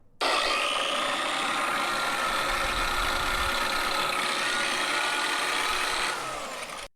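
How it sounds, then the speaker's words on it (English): A drywall sander powered from a solar inverter setup whirs steadily at close range, a continuous high motor whine that starts abruptly, holds for about six seconds, then winds down, with no talking. "This is the drywall sander"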